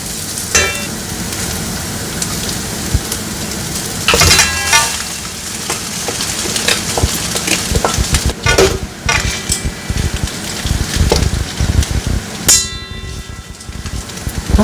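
Noodles tossed and stirred in a hot pan for a paneer tikka noodle dinner, a steady broadband sizzle with scraping and clattering stirs throughout, close and fairly loud.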